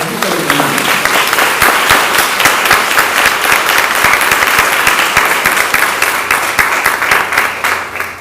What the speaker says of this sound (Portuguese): Vamos aplaudir a palavra.